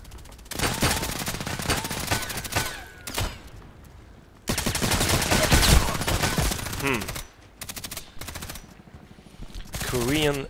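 Suppressed rifle fire in the shooter game Contract Wars comes in rapid bursts, clattering in dense volleys with short pauses between strings of shots, loud and close.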